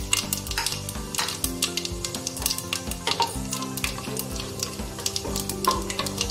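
Bay leaf, cardamom, fennel and spices frying in hot oil for vegetable biryani, crackling sizzle with frequent sharp pops and utensil clinks over quiet background music.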